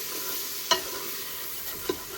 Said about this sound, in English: we're going to go in with some minced garlic. Give that a good stir.